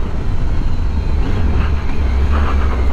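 A Triumph Tiger 800 motorcycle running low on fuel, its engine hesitating as it pulls on acceleration through city streets, a steady, loud low rumble with wind buffeting throughout.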